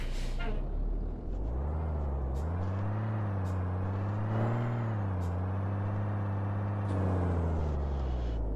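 A supersized Kenworth truck engine in Euro Truck Simulator 2, hauling a 75-ton load, drones steadily, its pitch climbing and easing as it revs, with a sharp hiss of air brakes now and then.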